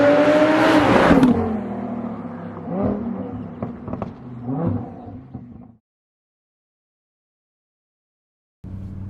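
A supercharged Audi R8 V10 launches hard with a loud, rising roar, then runs through several quick upshifts as the engine note falls away. Silence follows, and the sound returns faintly at the very end.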